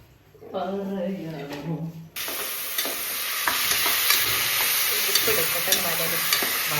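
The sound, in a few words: sautéing masala in a pan for chicken curry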